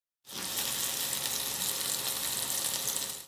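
Raw prawns frying in oil in a kadai, a steady broad sizzle that holds close and even for about three seconds, with no talk over it.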